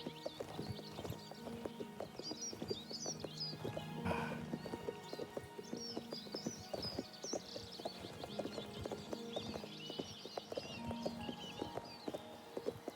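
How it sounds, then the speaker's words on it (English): Horse hooves clatter over cobblestones in The Elder Scrolls IV: Oblivion, a quiet, steady clip-clop rhythm with a brief snort or whinny partway through. "Hear the clickety-clack of the hooves on the cobblestones."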